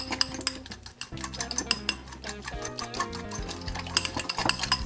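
A fork mixes a chicken Caesar salad in a bowl, giving quiet irregular clinks and scrapes against the dish alongside soft stirring noises, with no talking.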